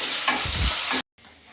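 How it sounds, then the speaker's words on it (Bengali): Chopped onion and slit green chillies fry in hot oil with a dense, steady sizzle and stirring scrapes, cutting off abruptly to near silence before a faint hiss returns. "পেঁয়াজ ভাজা হচ্ছে"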